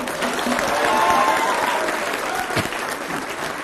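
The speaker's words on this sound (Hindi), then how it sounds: "बुलडोजर पर तालियां बज रही हैं" A crowd in a TV debate studio bursts into loud, sustained applause, a thick wash of clapping with faint crowd noise running through the whole stretch.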